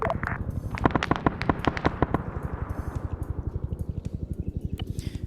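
Anti-aircraft guns fire in the Vietnam War combat game Arma SOG Prairie Fire: a rapid, steady stream of sharp, booming shots that starts dense and loud, then continues as a regular rhythmic pounding.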